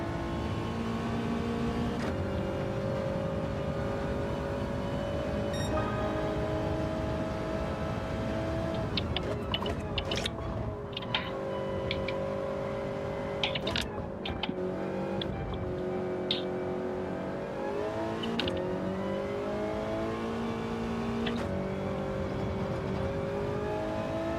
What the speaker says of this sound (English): Motorbike being an absolute twat at 7-Eleven